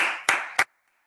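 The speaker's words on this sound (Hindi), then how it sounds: "एक बार जोरदार तालियां होनी चाहिए" Audience clapping at a Safe Shop business gathering: a short burst of claps that ends on two sharp, loud claps, then silence.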